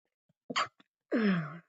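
A single person sneezes close by, with a short sharp intake followed by a louder, falling burst.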